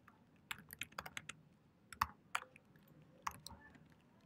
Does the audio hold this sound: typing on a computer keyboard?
yes